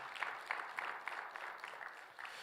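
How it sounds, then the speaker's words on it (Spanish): A church congregation claps for the Lord during a theology class on bibliology. The applause is faint and distant, with a loose, steady rhythm of claps running through the whole moment. "¿Cuántos le pueden dar un fuerte aplauso al Señor,"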